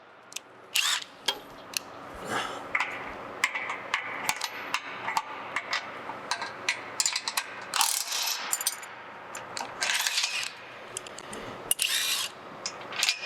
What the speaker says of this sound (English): So you remove that bolt, that's your first step.